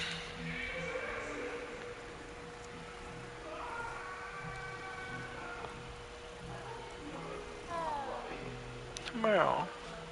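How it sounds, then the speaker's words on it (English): A cat meows a few times inside a wizard video game, mid-pitched calls set over steady ambient game music, with a faint voice speaking nearby. "Pet the cat over here."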